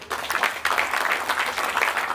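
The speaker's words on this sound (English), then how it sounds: "a big round of applause for them" A crowd claps loudly and steadily at a ribbon cutting for Glazer's Beer & Beverage in Weslaco, dense applause that keeps going through the short moment.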